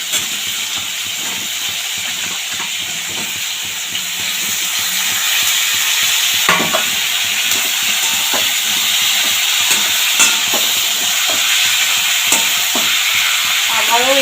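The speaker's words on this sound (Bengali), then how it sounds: "আলুটা হালকা ভাজা হয়ে গেছে, এখানে সজনে ডাঁটা দিয়ে দেবো" Potatoes and drumsticks fry in a pan with a steady hiss and sizzle, broken by repeated scraping stirs. The sizzle grows louder about a third of the way in, as the drumsticks go into the oil, and keeps up to the end.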